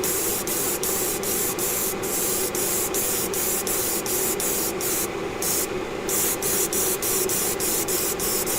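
An airbrush sprays yacht varnish in a continuous close hiss, pulsing in a rapid, regular rhythm throughout.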